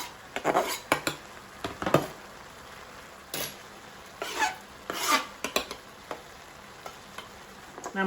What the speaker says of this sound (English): So we're going to go ahead and chop that a little bit and add it for color.